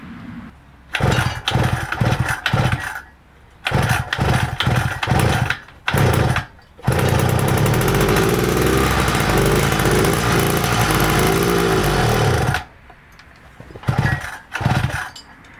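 A small mud bike engine with a faulty carburetor sputters and revs in uneven bursts, then holds a rough, steady roar for several seconds before dropping back to choppy, faltering revving.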